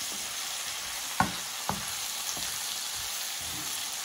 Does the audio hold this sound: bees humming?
no